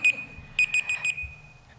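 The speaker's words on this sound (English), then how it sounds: "sorry, my alarm is way too loud" Alarm beeping in a burst of quick, high, shrill beeps at a home desk, fairly near and alone, with a short beep near the start and a final faint one.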